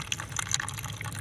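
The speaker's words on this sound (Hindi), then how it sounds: "अब मैं टब में पानी भर लेती हूँ।" Water pours into a small toy tub, a light continuous splashing and trickling with scattered drips, heard close and fairly quiet.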